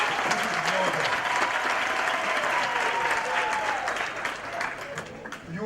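Audience at a training college graduation ceremony applauds the parents, a steady dense wash of clapping from a large crowd that slowly fades, with a voice faintly under it.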